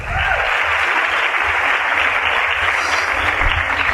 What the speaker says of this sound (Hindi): इसलिए खुद के लिए जोरदार तालियां।